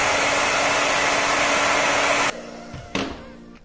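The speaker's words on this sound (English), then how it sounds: "Then you get the hair dryer." A hair dryer blowing on hairsprayed 80s-style hair, a loud, steady close whoosh for over two seconds that then cuts off, with a brief second burst of airflow.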